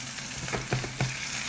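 Vegetables fry and caramelize in a pan on an induction hob, giving a steady soft sizzle with a few brief louder bursts, as if stirred, and no voices.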